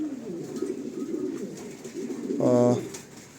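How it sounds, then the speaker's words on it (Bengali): A pair of Beauty Homer pigeons, one blue barless and one blue bar, murmur softly in the background before one gives a clear, fuller coo near the end. "এক জোড়া কবুতর"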